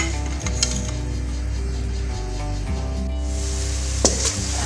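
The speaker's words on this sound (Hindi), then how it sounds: "प्याज हमारा जो है वो ब्राउन हो रहा है।" Onions browning in a pan for stuffed tinda masala, a steady close sizzle with faint stirring clinks and scrapes now and then, no voices.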